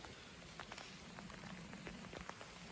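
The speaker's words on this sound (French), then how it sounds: "Ah, ça commence à bien pleuvoir là." Rain picks up outdoors in the evening, a steady hiss with scattered sharper drop taps on surfaces, fairly quiet and continuous, with a light breeze and no talking.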